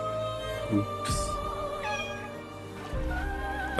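A house cat meows in a room, one clear rising-falling meow near the middle and a shorter call near the end, fairly close over a steady background hum with light clicks.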